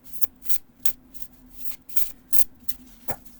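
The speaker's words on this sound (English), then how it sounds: "You can do the overhand shuffle." Oracle cards are shuffled by hand in an overhand motion, a series of soft papery slaps and riffles in an uneven rhythm, close and quiet.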